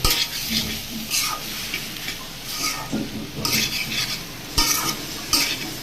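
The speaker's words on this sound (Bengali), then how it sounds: "এবারে এটাকে আরেকটু নাড়ব।" Cabbage and boiled potatoes being stirred and fried in a pan on the stove, with a steady sizzle and repeated scraping and clinking of a utensil against the pan, close and fairly loud, with no voices.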